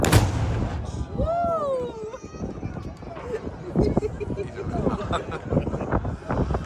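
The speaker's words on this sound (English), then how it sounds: "once the cannon fires at 12, don't go off, don't run away" Noon cannon firing at the Saluting Battery in Malta: a loud boom rings out amid a crowd of spectators, with people talking and exclaiming throughout.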